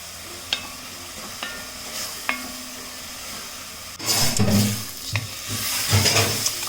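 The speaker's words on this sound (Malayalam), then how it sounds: "ഈ ചോപ്പ് ചെയ്ത് വെച്ചിരിക്കുന്ന സവാളയും പച്ചമുളകും ഇഞ്ചിയും കൂടി ഇട്ടിട്ട് വഴറ്റി കൊടുക്കാം" Chopped onion, green chilli and ginger go into a hot pan for sautéing: a few quiet taps, then a sudden louder burst of sizzling partway through that settles into steady frying with stirring clatter.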